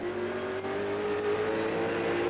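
Touring race cars accelerating hard at Eastern Creek circuit in a 1997 AMSCAR Series race, heard on board: a loud, steady engine drone that climbs gradually in pitch for a little over two seconds, with no talk.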